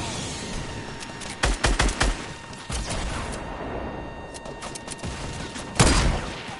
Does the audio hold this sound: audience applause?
no